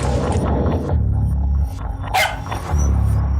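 A dog, the puppy Daisy in a John Wick crime-drama scene, gives one short, sharp bark over a steady low rumbling background.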